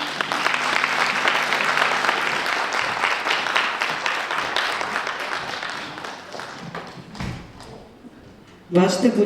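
An audience at a singing competition applauds a vocal duet after their song with full, close clapping that thins and fades over several seconds before a voice begins speaking.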